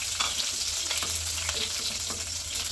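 Garlic and curry leaves crackle and sizzle in hot oil for a mango curry, a steady dense frying hiss with brief spattering pops, close and fairly loud, no voices.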